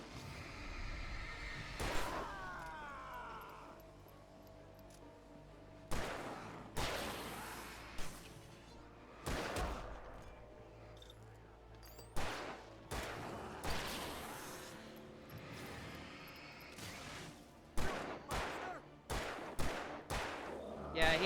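Enemy gunfire in Alan Wake Remastered rings out as repeated sharp shots and bursts spread across a tense game soundscape, with some louder blasts and whooshes between them.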